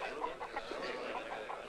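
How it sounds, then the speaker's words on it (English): Several chickens clucking in a busy, continuous cluster of short calls at moderate volume, set in a Western film scene with hens presented as egg layers. "They are chickens, amigos. Chickens, hens,"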